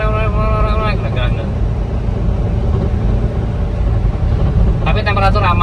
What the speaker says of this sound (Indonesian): knalpot yang nempel itu nggak gena-gena suaranya, udah kayak motor racing